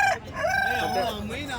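A country chicken rooster crows once at a poultry market, a long rising and falling cock-a-doodle-doo, close and loud with no other sounds around it.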